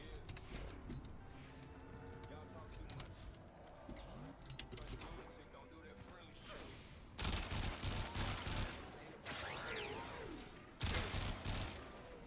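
Rifle gunfire in the shooter game Warframe, with bursts of rapid shots crackling over game music and ambient effects, loudest in several dense volleys toward the end.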